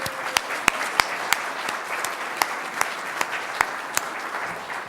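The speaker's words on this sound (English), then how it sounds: "give a quick round of applause?" A small audience claps for several seconds, light scattered applause with distinct individual claps, fairly quiet and steady.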